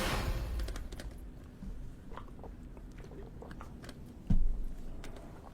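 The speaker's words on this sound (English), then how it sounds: "You gotta tell me what you're munching on." Someone munching on food close by, with irregular crunchy bites and small chewing clicks across a few seconds and one louder bite near the end, with no talking.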